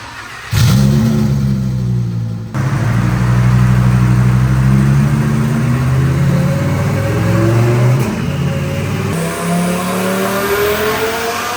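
Twin-turbo Lamborghini engine running on 100% alcohol fuel, loud and close during a dyno pull: a brief blip, then a sustained rising roar as revs climb, a short drop near eight seconds, then it pulls hard again.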